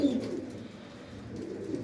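Pigeons kept in a poultry loft coo softly together in a low, steady, continuous murmur, with no talking.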